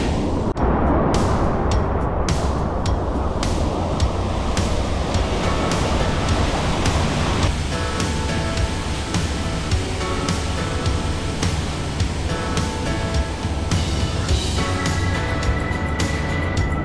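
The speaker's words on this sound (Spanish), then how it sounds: "Ya llegamos a la cascada madre." A loud, steady roar of rushing water from a waterfall fills the scene without a break, broad and constant throughout.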